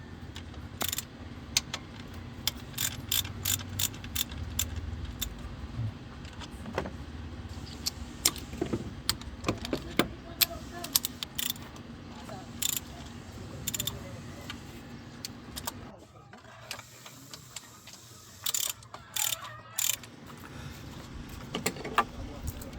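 A ratchet wrench working on the intake manifold of a Pajero under restoration. Rapid metallic clicks repeat in close bursts throughout over a low background hum, with tool clinks and handling noises and no clear talking.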